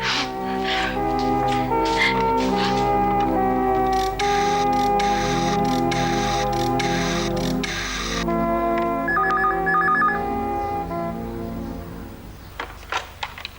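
An electronic phone ring plays a repeating melodic tone pattern for several seconds, steady and clear, then stops, followed by a few soft clicks.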